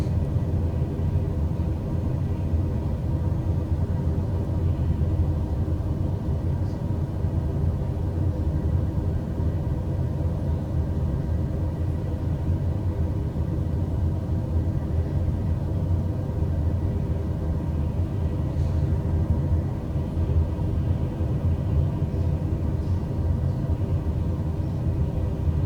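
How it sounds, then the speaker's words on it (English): A TBM 930 single-engine turboprop climbing out after takeoff in a flight simulator, heard as a steady, loud, low rumbling drone with even engine noise throughout and no voices. "Looks like our aircraft just took off."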